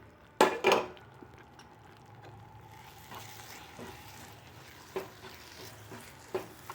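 A spoon works through a thick aval mothagam mixture of beaten rice and cooked moong dal in a pan over a low flame, with two sharp scrapes near the start and then soft, intermittent scraping and faint bubbling.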